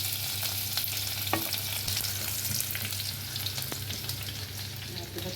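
Ginger and garlic sizzle in hot oil in a pan, a steady close crackle with a few sharp pops and light stirring scrapes, no talking.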